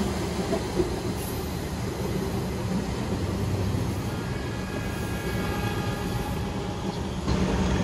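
A PT206 train shunts at Gambir station in Jakarta, giving a steady low rumble and rolling rail noise with faint squeals from the wheels, continuous and moderately distant.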